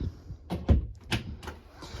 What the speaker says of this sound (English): you do have a solid door to be able to shut this off